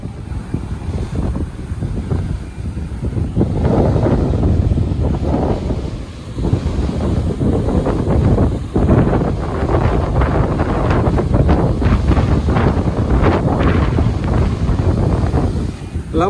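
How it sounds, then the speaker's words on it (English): Strong wind buffets the microphone at Umdloti Beach in Durban, South Africa, a loud, gusty roar rising and falling over surf noise, with occasional muffled voice underneath. "Wind is still strong on this side."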